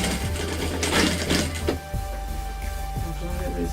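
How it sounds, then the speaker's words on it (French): Sewing machine running steadily as it stitches the 1 cm side seam of a fabric tote bag, a continuous close mechanical whir with rapid needle clatter and a brief pause midway, no talk over it. "je vais prendre 1 cm pour la couture du côté"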